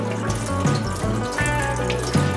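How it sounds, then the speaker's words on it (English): Water spraying hard from a hose spray attachment turned up high, pushed along the edge of a respirator mask, a steady hissing rush with shifting tone as the stream moves. "what I'm going to use is a spray attachment here. Turn on the water high"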